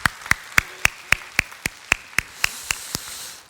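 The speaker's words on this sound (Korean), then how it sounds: "감사의 박수와 또 격려의 박수를" A church congregation at a Sunday service claps in unison, about a dozen sharp, evenly spaced claps in a steady rhythm, fairly close and clear.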